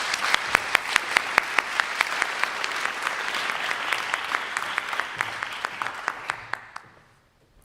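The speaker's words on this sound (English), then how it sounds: "Applause." An audience claps steadily at a concert of Rumi poetry set to music, sustained applause with a few sharp individual claps standing out, fading away near the end.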